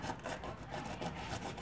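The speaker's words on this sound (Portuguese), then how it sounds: "Agora eu vou estar lixando essa parte." Sandpaper rubbing across a basketball sneaker sole to clear marks left by the old sole, a continuous close scratchy rasp with slightly uneven strokes and no talk.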